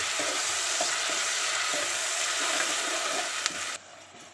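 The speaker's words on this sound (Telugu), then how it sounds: "ఉల్లిగడ్డలు మిరపకాయలు మంచిగా గోలించుకోవాలి, ఇట్లా ఎర్రగేటట్టు" Onions and red chillies sizzle steadily in a hot pan for a Telugu potato and brinjal curry, a dense continuous frying hiss with faint stirring scrapes, close and fairly loud before it cuts out near the end.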